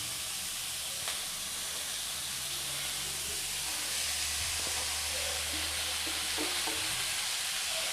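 Chopped broad beans stir-fried with onions in a pan over a slow flame give a steady close sizzle and hiss, with occasional scraping from stirring.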